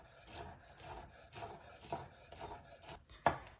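A knife chops and minces smashed garlic cloves on a wooden board in quick, rhythmic taps and scrapes, close but soft, with one sharper knock near the end.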